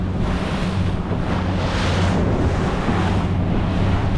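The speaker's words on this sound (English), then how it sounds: "The waves are pretty good today." Ocean waves and choppy water splash steadily around a fishing boat out at sea, with strong wind buffeting the microphone throughout and no talking.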